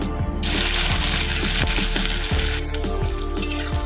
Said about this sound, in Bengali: এটা একটু হালকা করে ভেজে নেবো পেঁয়াজটা